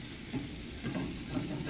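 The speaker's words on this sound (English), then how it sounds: "What I like to do is flip the burgers over." Burgers with an onion soup mix sizzle in a hot pan as they are flipped, a steady close frying hiss with soft scraping bursts and no talk.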